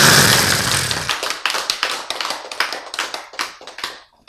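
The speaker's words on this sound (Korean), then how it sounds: "박수." A room of people claps, starting as dense loud applause that thins into scattered individual claps fading out over a few seconds.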